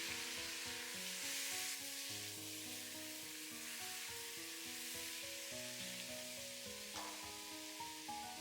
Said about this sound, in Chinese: 冬瓜也加進來，稍微翻炒幾下